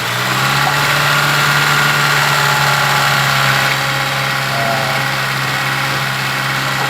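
A car engine with a rough running fault from oil slow to circulate holds at about 2000 RPM, a steady, loud, close mechanical hum with vibration and no talk.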